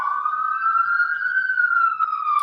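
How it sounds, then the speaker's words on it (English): A police car siren wails steadily outside, a loud continuous rising and falling tone passing by with no pauses. "sorry about the sirens"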